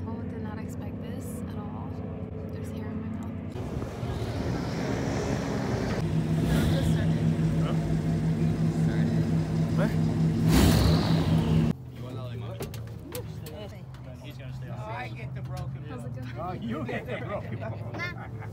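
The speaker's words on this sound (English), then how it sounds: "we hear a boat in the distance." A low motorboat engine drone rises from the distance in the Everglades near Fort Lauderdale and grows steadily louder as it approaches, with voices talking over it throughout.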